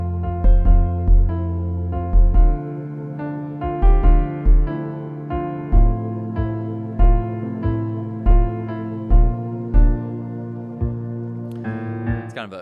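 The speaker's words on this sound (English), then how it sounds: "It's a syncopated kick pattern." A low-passed kick drum in a syncopated heartbeat rhythm from a song thumps in repeated bump, ba-bump pairs beneath sustained piano and vocal tones, with the pattern playing twice.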